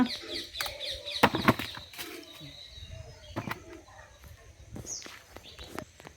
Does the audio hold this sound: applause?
no